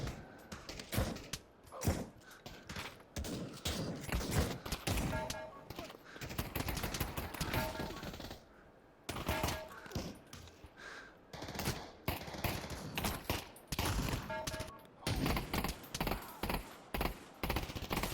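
Desert Eagle revolver shots in a VR video game sound as dense, rapid bursts of sharp cracks with mechanical clicks, loud and near, pausing briefly around the middle before resuming.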